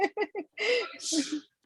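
A short burst of sneezing heard indoors during a conversation, a few quick sharp bursts followed by a longer breathy sneeze, close and moderately loud, with voices around it.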